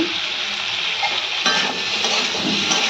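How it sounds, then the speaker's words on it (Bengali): Spices and vegetables frying in a pan while being stirred, a dense continuous sizzle with a firmer scrape partway through, loud and close with no voices. "এটাকে ভাজবো, মশলাটাকে কষাবো ভালো করে"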